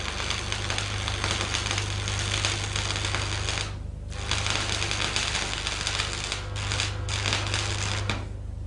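A stick welding arc burning on a coated electrode with the current set slightly too low gives a steady, dense crackling sizzle close by, with a few brief dips where the arc falters.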